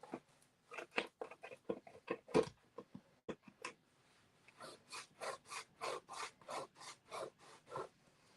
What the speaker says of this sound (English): I do give it a bit of a rub down, like this is, I'm being quite harsh with it